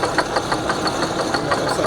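A motor driving a cable and pulley system runs with a steady, rhythmic mechanical knocking, a continuous close whirr pulsing several times a second without pause.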